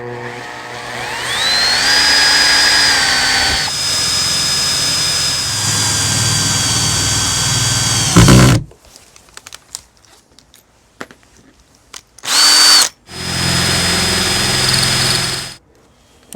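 A power drill drives screws into a carpeted plywood wall panel in a camper van: a long, loud whirring run with shifting pitch stops abruptly, followed by quiet clicks and handling, then two shorter bursts of the drill.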